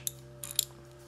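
A ratchet wrench tightens a spark plug on a Royal Enfield Continental GT 650 motorcycle, giving a few quiet, brief clicks over a steady low hum.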